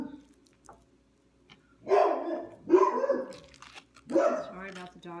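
Pet dogs bark indoors in a home kitchen during avocado prep, three loud, close bursts of barking spaced about a second apart, with a few softer yips between.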